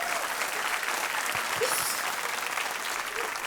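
Steady, moderately loud applause fills the studio of a televised quiz show, the audience clapping continuously throughout.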